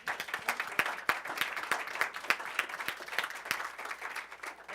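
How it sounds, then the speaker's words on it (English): A small audience in a strategic planning session applauds the presenters' work, with distinct, fairly sparse claps in an uneven rhythm from a modest group, close and without talk. "so we can applaud their work"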